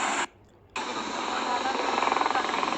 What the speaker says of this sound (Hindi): ये हेलीकॉप्टर जाता हुआ।